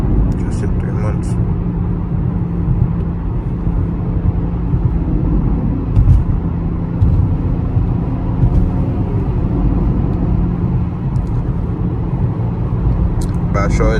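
BMW X3M fitted with an aftermarket muffler cruises along, its exhaust and engine a steady, deep low rumble that continues throughout with occasional bumps, and talking runs over it.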